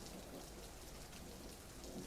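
Steady rain falls in an even, hissing wash of drops, soft and continuous throughout, with no voices.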